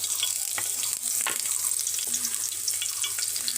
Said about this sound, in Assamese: তেল গৰম হৈ গৈছে আৰু ইয়াত দিম এতিয়া মই গোটা জিৰা